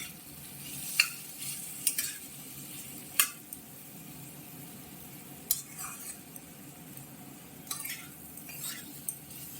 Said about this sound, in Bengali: আলু ভাজা কমপ্লিট আমাদের ব্রেকফাস্টের জন্য